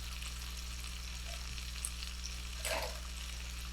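Food frying in a pan over onion and bacon, a faint steady sizzle beneath a constant low electrical hum, with one brief clatter near the end.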